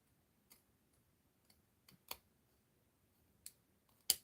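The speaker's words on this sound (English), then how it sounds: "Let me use some bigger scissors so I can do it in one thingy bob, in one go." Large scissors cut card stock for a folded-corner easel card in a few quick, sharp snips, spaced apart, close and fairly quiet, with no one talking.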